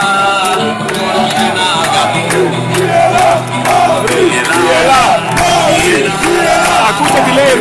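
A loud football stadium crowd at a Kalamata versus Larissa match chants and roars continuously, a dense wall of massed voices rising and falling together.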